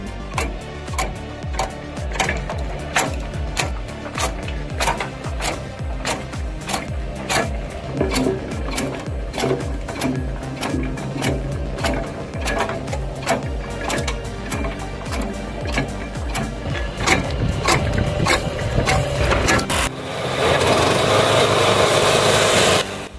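An old chaff cutter shreds branches and yard waste into mulch, giving a loud, steady mechanical clatter with rapid repeated chopping impacts that runs almost the whole time and turns to a harsher, denser roar near the end.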